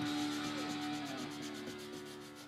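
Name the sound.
hand sanding a part smooth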